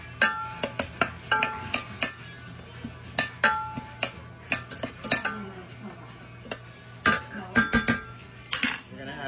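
Metal utensils clink and scrape against a pot while noodles are mixed, a steady run of sharp, close clatters and taps with a low hum underneath.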